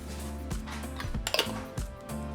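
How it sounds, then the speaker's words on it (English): A spoon or whisk clinks and scrapes against a mixing bowl while yeast and cinnamon are stirred into conchas dough, with irregular close knocks and rattles and no talking. "And I'll mix it all together."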